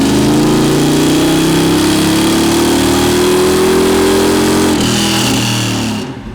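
A 383 cubic-inch V8 with FiTech TPI retro-fit EFI roars loud and steady at full throttle on a dyno pull, its pitch climbing smoothly before it drops sharply near the end and the engine winds down.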